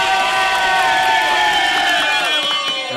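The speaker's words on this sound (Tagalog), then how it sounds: "hinihingi ang malakas na palakpakan at sigawan ng Bahay Katay!" A crowd at a Filipino rap battle event cheers and shouts loudly and continuously, a dense roar with whistles that fades slightly at the end.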